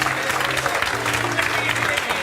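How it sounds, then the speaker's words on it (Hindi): Loud applause from a gathered audience, a short continuous burst of clapping with a voice speaking over it. "जोरदार तालियां बजाओ।"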